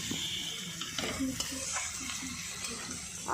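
Prawns and snake gourd fry in a pan with a steady low sizzle, broken by a few soft spatula scrapes and stirs; close and moderately quiet, with no talking.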